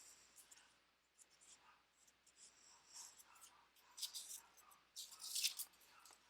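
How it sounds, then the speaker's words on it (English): Soft paper rustles and scrapes close up as a strip of paper is wrapped around a pencil for a collage sculpture, quiet crinkling that grows into a few sharper, brighter crackles near the end. "maybe I can take this next paper and I'll wrap it"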